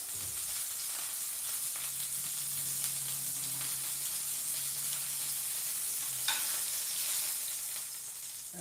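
Steak searing in hot oil in a pan crackles and sizzles steadily throughout, a dense frying hiss with one brief louder pop near the end.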